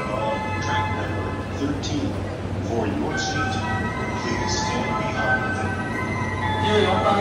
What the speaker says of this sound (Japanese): 13番線には津田沼駅の電車到着をいたします